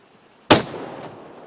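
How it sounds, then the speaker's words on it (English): A single sharp rifle shot fired down range by a sergeant, loud and close, with a short echoing decay trailing off after the crack. "When you're ready, put some rounds down range."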